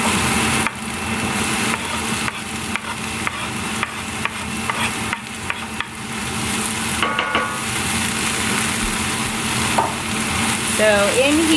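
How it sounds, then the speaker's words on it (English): Garlic, onions, red chili pepper and chopped celery fry in a pan with a steady loud sizzle, a utensil scraping and stirring through it now and then. "We're not trying to golden brown the garlic or anything. We just need to kind of fry it up"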